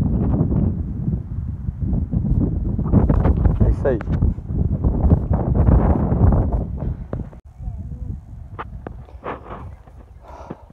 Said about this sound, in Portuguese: Eu não sei se o som vai ficar bom, porque tá ventando demais.